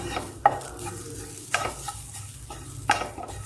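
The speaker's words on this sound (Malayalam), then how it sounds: "ഇനി നമുക്ക് ഇതൊരു പാനിലിട്ട് ചെറുതായിട്ടൊന്ന് വറുത്തെടുക്കാം" A crushed spice mix for beef roast is stir-fried in a pan, with three distinct scraping stirs spaced about a second apart over a quiet, low sizzle.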